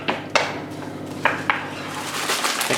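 Tofu cooks in a pan with a little olive oil, giving a quiet continuous sizzle with several sharp clinks and scrapes of a utensil against the pan.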